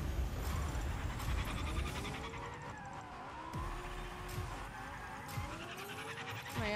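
A race car drifts in the Fortnite Rocket Racing video game, its tires squealing in several sliding arcs over a steady engine drone and game effects, fairly quiet in the mix.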